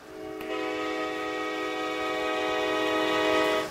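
BBD LRC high-speed train in RO-Scale Sandbox sounds a single long, steady horn that starts abruptly, holds loud and close for about three seconds with a slight swell, then cuts off.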